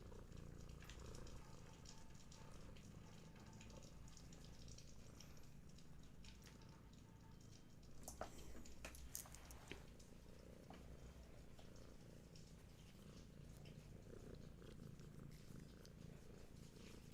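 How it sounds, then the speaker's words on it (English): A cat purrs steadily and close up for the whole stretch, a low continuous rumble with a brief rustle of handling partway through. "I'm sure you can all hear the purrs."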